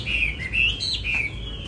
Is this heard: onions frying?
no